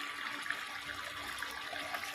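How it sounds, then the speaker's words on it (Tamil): Tamarind water poured into a potato and drumstick curry cooking on an induction stove, a soft, steady trickling and splashing of liquid, faint and close, with no talking. "இப்போ வந்து புளியை ஊற்றிக்கலாம்."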